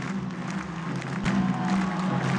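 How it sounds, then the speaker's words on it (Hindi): Crowds on both sides of the Wagah-Attari border parade applaud, a broad steady wash of clapping that swells slightly partway through, heard from within the stands without distinct voices. "इस टाइम दोनों साइडों से तालियों की जो आवाज़ आ रही है"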